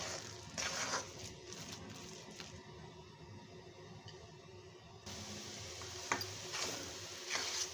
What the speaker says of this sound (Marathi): आपल्याला ही डाळ आता जवळजवळ 15 ते 20 मिनिटं परतून घ्यायची आहे